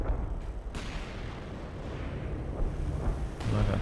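Light artillery barrage in Company of Heroes 2, a World War II strategy game: continuous rumbling booms and distant impacts rolling steadily, with sharper hits near the start and end, loud and alone.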